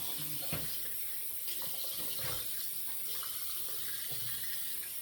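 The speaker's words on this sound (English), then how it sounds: "Give it a good rinse here" Tap water runs steadily into a sink as a razor is rinsed after a shave, a continuous close hiss with faint clinks and splashes under it.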